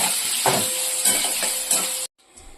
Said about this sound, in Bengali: সয়াবিনটা একটু ভাজা হোক।